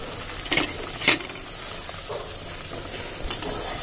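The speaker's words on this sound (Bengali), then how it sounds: "এবার ভেজে নেব।" Luchi frying in hot oil, a soft continuous bubbling sizzle with a few sharper clinks and scrapes of a utensil against the pan scattered through.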